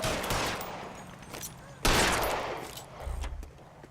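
Gunfire in the L.A. Noire video game: a few sharp shots, one loud close blast standing out, amid scuffling game noise with a voice talking.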